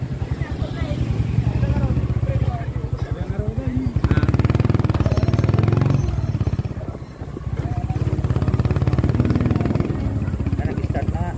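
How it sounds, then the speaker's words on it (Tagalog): A motorcycle engine runs close by near a covered school court before a graduation ceremony, its rapid pulsing throb rising and easing steadily throughout while voices can be heard in the background. "Yan yung motor nila ng Sergio."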